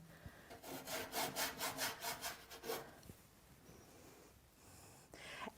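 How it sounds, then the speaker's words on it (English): Rhythmic back-and-forth scrubbing of a paintbrush pressed hard against the painting surface, about a dozen quick rasping strokes, then quieter scattered brushing; close and faint, no talking. "You hear that noise again, so you know that I'm putting a lot of pressure on my brush"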